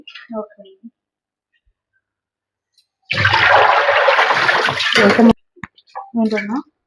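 A burst of running water from a tap gushes loudly for about two seconds between stretches of talk, splashing over chicken being rinsed.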